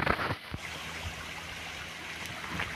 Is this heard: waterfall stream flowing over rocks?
yes